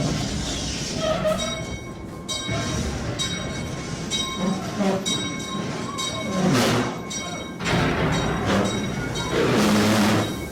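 Mine train ride rolling along the rails, a loud continuous rumble with clattering wheels and occasional squeals, carrying on alone without talk.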